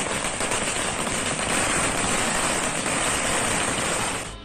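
Firecrackers set off in the streets by celebrating political supporters make a loud, dense, continuous crackling barrage, close by and unbroken for several seconds, with no talking.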